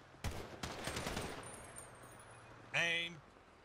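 Funeral gun salute in GTA V roleplay, with two loud rifle volleys in quick succession whose echoes ring out, then a spoken command over a faint background.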